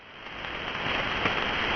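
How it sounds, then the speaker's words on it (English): Freezing rain falls steadily as a dense, continuous hiss that swells slightly louder over the short stretch, with no voices present. "It's just raining now, but it was a nasty day."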